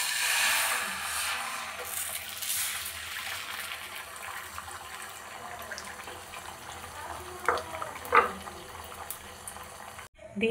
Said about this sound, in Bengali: ডিমের গোলাটা দিয়ে দেবো